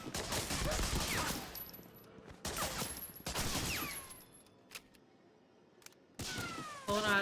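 Rapid video game gunfire, bursts of loud crackling automatic shots in several clusters with short quieter gaps between them, up close with no voices over it.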